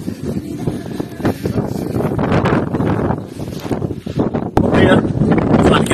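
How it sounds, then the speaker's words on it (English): Strong wind batters the microphone on Roker pier, a loud, continuous roar with gusty surges that rises further near the end. "That wind is absolutely horrendous on the top rail."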